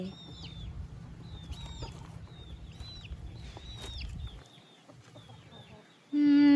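Chickens in a rural village setting, repeated short clucks and chirpy calls over a low rumbling background, ending with a sudden loud buzzing tone.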